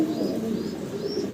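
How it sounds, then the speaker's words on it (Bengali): A pair of fancy Muffet Helmet pigeons coo continuously at close range, with soft, throaty, warbling murmurs and a few faint higher chirps over the whole stretch, no talk. "সম্পূর্ণ সুস্থ সবল, খুব চঞ্চল, দেখতে পারতেছেন কবুতরগুলো মাশাআল্লাহ"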